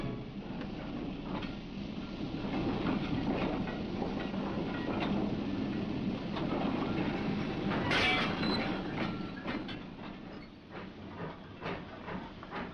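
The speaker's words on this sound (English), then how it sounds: "a certain train is being marshalled." Rail wagons rumble and clank steadily at close range, with hissing and scattered metallic knocks as a 1957 freight train is marshalled at a goods depot; no voices.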